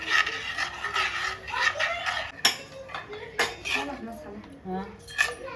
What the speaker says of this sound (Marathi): आता हे सगळं साहित्य चमच्याने चांगलं एकजीव करून घ्यायचं.